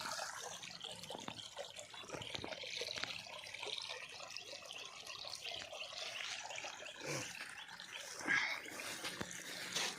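Quiet trickling and gurgling of water flowing into a paddy field, steady and faint, with occasional soft splashes.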